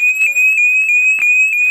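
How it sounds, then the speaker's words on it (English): A van's panic button alarm blares in a steady, piercing electronic tone, loud and close, with faint voices and movement beneath it. "the noisy alarm is definitely more of a deterrent than the axe we kept beside our bed"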